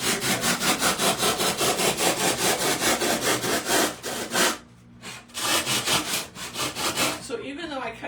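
Rapid back-and-forth sawing strokes through foam rasp loudly and rhythmically, pausing briefly midway before resuming, close up with no talking.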